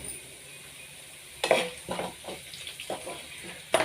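Onions frying in a pan until golden, for an ivy gourd stir-fry, with a soft steady sizzle broken by several clattering stirs and scrapes of a spoon against the pan.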